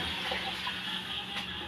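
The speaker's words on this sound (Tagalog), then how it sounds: "Lagyan na natin ng sabaw. Tubig." Water pours into a cooking pot for sinigang soup, a steady continuous gush running close and fairly loud with no pauses.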